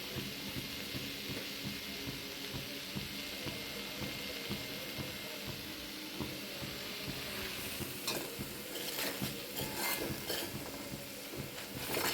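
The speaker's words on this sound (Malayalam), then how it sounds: "അതിനകത്തേക്ക് കറിവേപ്പില ഇട്ട് കൊടുക്കും." Curry leaves sizzle in a hot pan of oil while ladyfinger (okra) sabzi cooks, a soft, steady frying hiss that stays faint throughout, with a few brief crackling bursts toward the end and no voices.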